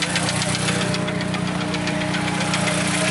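Turbocharged Honda S2000 with a blown engine, knocking and rough under a steady loud engine drone, continuous throughout with no talk.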